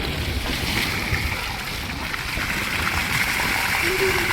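Water splashes steadily while someone bathes at a farm water tank outdoors, with a constant wash of water and voices talking over it.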